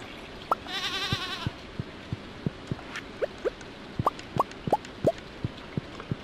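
Goat bleating while being milked in the farming video game Stardew Valley: a short game bleat near the start, followed by a steady run of light, evenly spaced clicks and plops from the game.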